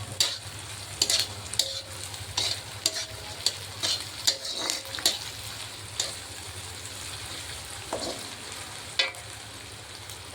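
A spoon stirs ingredients frying in oil in a pan. Steady sizzling runs underneath while the utensil scrapes and clinks in irregular strokes, close and clear, with no talking.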